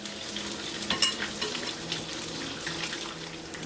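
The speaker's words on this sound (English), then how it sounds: "So add that to my pan. So now these are going to cook, we'll say about 2 minutes on this side" French toast slices frying in a hot pan give a steady, close sizzle with a dense crackling hiss that holds evenly throughout, with no talking.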